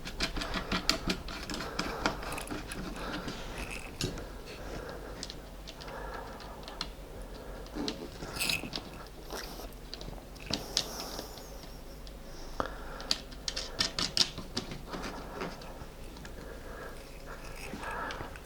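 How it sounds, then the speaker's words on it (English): Small nuts screwed by hand onto the little feet of a server case, a faint, close series of irregular ticks, clicks and light metallic scrapes spread over a quiet stretch. "Just put these nuts on."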